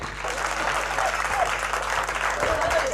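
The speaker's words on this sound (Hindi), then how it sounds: "एक बार तालियां बजा दो जरा जोरदार" An audience at a Hindi comic poetry recital breaks into loud, sustained applause, a thick continuous clatter of many hands filling all three seconds with a faint low hum beneath.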